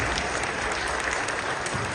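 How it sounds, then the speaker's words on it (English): Steady, dense applause from a school assembly audience for a Grade 1 class, sustained and even across the whole stretch with no pauses. "let's give them another round of applause"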